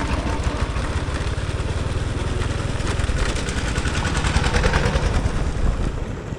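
A walking tractor engine runs steadily and loud near rice paddies in Thakhek, Laos, a rough continuous chugging drone with rapid pulsing throughout, no voices.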